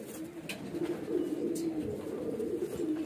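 Baby highflyer pigeons coo close by in soft, continuous low warbling murmurs, with a few faint higher chirps mixed in.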